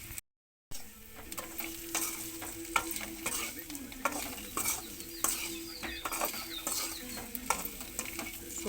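Egg fry masala sizzles in a pan, with steady frying hiss, a spatula stirring and scraping against the pan, and occasional clinks, close and continuous.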